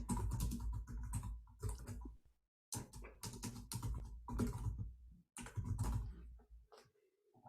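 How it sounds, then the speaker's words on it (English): Someone types on a computer keyboard during an online meeting, close, quiet clicking in short bursts separated by brief pauses, with no voices. "Yeah, Jeff is typing"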